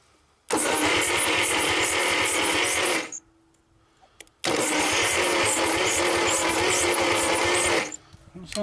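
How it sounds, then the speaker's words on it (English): A 1949 Buick straight-eight engine, unstarted for years, cranks hard on its starter in two long bursts of about three seconds each, with a short quiet pause between them. "We know the starter will turn. Let's hope it turns the engine."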